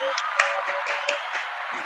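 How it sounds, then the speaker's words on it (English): A podcast audience gives a round of applause, a busy mix of clapping with scattered louder claps and voices talking over it. "We got to give you guys another round of applause."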